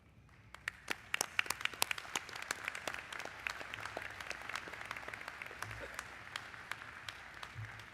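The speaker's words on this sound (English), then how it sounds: "special applause for Giuseppe" Graduation ceremony audience applauding an honoree, with sharp individual claps popping out of a thinner crowd clapping that stays fairly steady for about eight seconds, with no one speaking.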